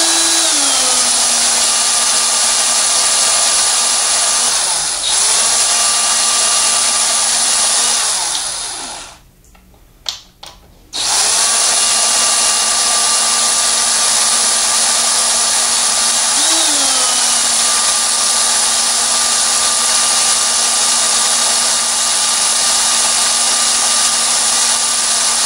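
A power drill whines steadily and loudly at close range, briefly stopping and restarting midway, its pitch dipping and recovering as it bites into the soft metal of a Winchester Bandit gun safe.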